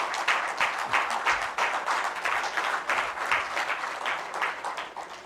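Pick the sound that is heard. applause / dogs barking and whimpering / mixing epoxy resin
applause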